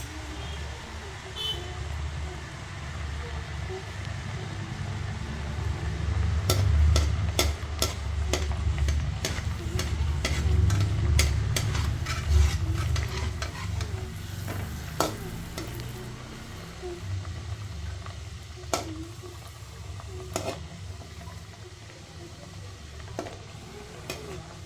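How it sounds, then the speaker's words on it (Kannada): Wheat-flour gagari fry in hot oil with a steady low sizzle and bubbling, punctuated by scattered sharp clicks and taps of a utensil, with faint traffic sounds in the background. "ಇವಾಗ ಎಣ್ಣೆ ಕಾದಿದೆ, ಒಂದೊಂದೇ ಹಾಕ್ತಾಯಿದ್ದೀನಿ."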